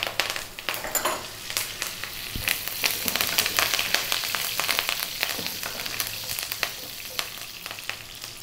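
Black mustard seeds and fresh curry leaves fry in hot oil on above-medium heat, a steady close sizzle with scattered popping crackles throughout.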